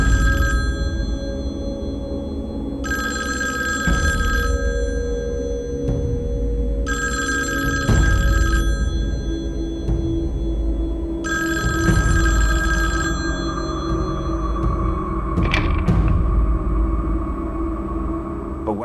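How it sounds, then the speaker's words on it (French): A telephone rings in repeated long bursts with pauses between them, loud and close indoors over a low background rumble, and no one speaks. "le téléphone a sonné"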